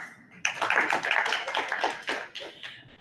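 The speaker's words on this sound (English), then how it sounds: "I still got that great clap" Audience at a club meeting clapping together, a dense burst of many hands that starts abruptly, holds steady, then thins and fades toward the end.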